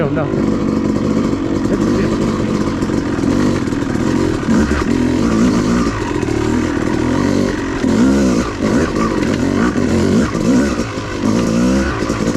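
Off-road motorcycle rolling down a steep trail at Brown Mountain OHV, its engine a steady loud drone with rattling and clatter from the rough descent throughout.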